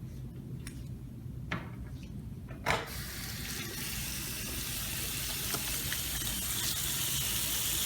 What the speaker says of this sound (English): The examiner should remove the gloves used for the extraoral exam and